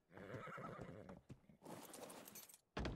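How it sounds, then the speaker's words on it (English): A horse in a GunsmokeRP western roleplay video game whinnies loudly, then hooves clip-clop and shuffle close by, ending in a sharp burst of noise. "You can go ahead and park your horse right there next to them donkeys."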